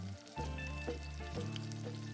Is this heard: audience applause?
no